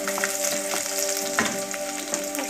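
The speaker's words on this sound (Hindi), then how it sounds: "तो अब मैं इसमें डालूंगी लहसुन जो मैंने बारीक कट करके रखा था इस तरह से, 1 से 2 सेकंड मैं इसे भूनूंगी।" Finely chopped garlic sizzles and fries in hot oil in a pan for a Kabuli chana chilli gravy, a steady close crackling hiss with a few soft stirring clicks, no voices.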